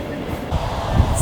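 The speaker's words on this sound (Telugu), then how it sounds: "మన ట్రైన్ అయితే మల్లెమడుగు నుంచి డిపార్ట్ అయిపోయిందండి." A MEMU passenger train pulls out of Mallemadugu station with a steady loud rumble from inside the carriage, its noise slowly building, and a voice speaking briefly over it.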